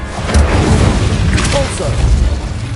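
Incendio fire spell cast in Hogwarts Legacy combat, a loud booming burst with a few sharp pops and crackles over a busy battle background.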